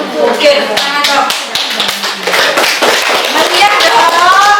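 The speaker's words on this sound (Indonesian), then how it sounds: "Oke, tepuk tangan dong." Classroom of students clapping hands together, a burst of loud, close, uneven claps with voices talking over the clapping.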